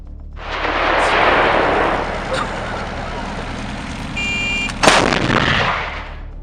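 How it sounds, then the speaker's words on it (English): A Russian self-propelled artillery gun fires with a massive, rolling roar that slowly fades, then a second sharp, heavy report bursts out near the end, loud and close. "the self-propelled gun comes very close to the main guns of a World War II-era battleship"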